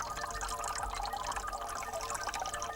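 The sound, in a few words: water streaming out of three holes in a can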